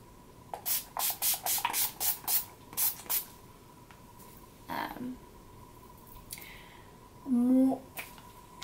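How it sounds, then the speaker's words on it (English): Quick bursts of Urban Decay All Nighter makeup setting spray hiss in a rapid series, about ten short pumps close by, followed by quiet rustling and a brief soft voice. "I am going to go in with the Urban Decay All Nighter Makeup Setting Spray."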